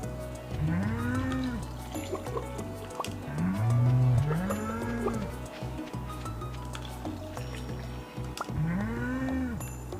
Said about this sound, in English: Let's go milk these cows.